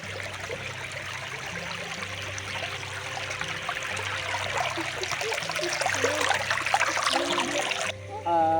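Water murmurs steadily near a temple well, a soft continuous trickling flow heard from a short distance, with faint voices and low background hum mixed in before a brief cut near the end.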